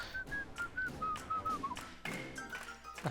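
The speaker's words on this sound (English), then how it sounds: "people playing the Mario theme song. Or whistling it" A person whistles the Mario theme melody in short, bouncy phrases, close and clear, over light tapping and thumping noises in the room.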